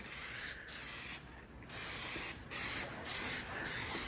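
An aerosol can hisses in several short bursts laying a coat of candy paint onto Chevrolet Silverado truck parts, each spray separated by brief pauses, fairly close and steady.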